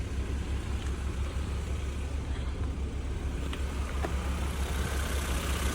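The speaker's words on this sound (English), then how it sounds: "Engine sounds good." A petrol engine of an MK5 Ford Fiesta ticks over at idle, a steady low rumble with an even drone and no revving, heard close by and alone.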